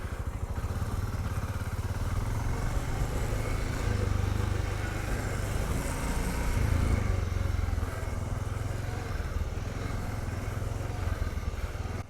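Voge 650DS (Loncin DS8) motorcycle, a 2020 bike, rolling at very low speed, its engine a steady low rumble with faint mechanical clatter running continuously and close for the whole stretch, no talking.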